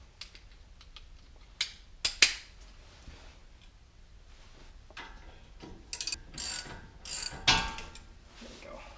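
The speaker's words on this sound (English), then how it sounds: "Okay, so I'm going to undo that nut now." A hand ratchet clicks in short bursts while loosening a castle nut on the suspension of a 2007 Toyota 4Runner, with sharp close clicks and pauses between pulls in a quiet workspace.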